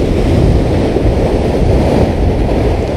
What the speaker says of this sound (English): this is the kind of swell, storm swell that you would see when the water is much, much deeper